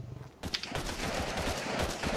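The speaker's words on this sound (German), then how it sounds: "Du hast mindestens 10 Schüsse verschwendet." Gunfire from the video game ARK: Survival Evolved, a rapid string of loud, sharp shots that follows a short quiet opening and carries on steadily to the end.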